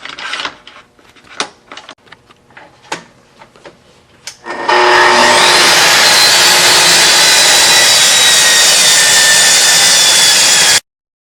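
A power saw rips a long, continuous cut through wood along a Betterley straight line guide rail, loud and steady for about six seconds before stopping abruptly, after a stretch of quieter clicks and handling knocks.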